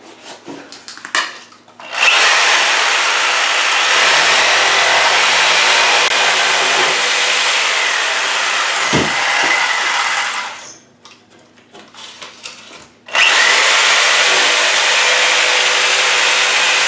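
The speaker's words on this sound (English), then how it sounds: "I'm going to try this hacksaw on the other one a little faster" Hacksaw cutting through a rotted bathroom floor board, a steady broadband rasp running almost continuously, with brief pauses near the start and around the middle before resuming, loud and close.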